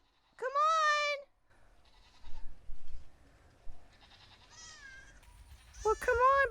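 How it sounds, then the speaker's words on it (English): Baby goats on a farm during evening chores bleat in loud, wavering cries: one long close bleat at the start, then quieter rustling, followed by two more bleats near the end over low background noise. "Now I can hear baby goats."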